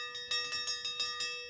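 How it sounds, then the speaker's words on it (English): A small desk bell is struck about six times in quick succession, each ding ringing out bright and close before the next one. "There's a little bell at the top."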